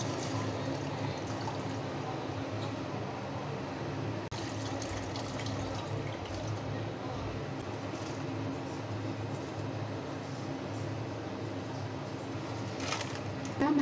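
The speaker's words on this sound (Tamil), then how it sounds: "இந்த ஊற வச்சுருக்க புளித்தண்ணியை நம்ம இதில் ஆட் பண்ணிடலாம்" Soaked tamarind water is poured into a pot of rasam in a home kitchen, a soft, continuous liquid splash over a steady low background hum lasting several seconds.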